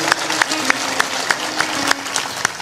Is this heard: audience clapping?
yes